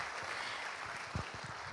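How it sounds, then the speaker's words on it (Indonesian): An indoor audience at an awards ceremony and talk show applauds steadily, a dense, even wash of clapping from many people throughout, with no talking. "Kita berikan sekali lagi tepuk tangan untuk kita semua."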